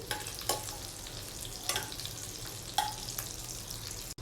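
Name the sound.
butter melting and sizzling in pan for white sauce pasta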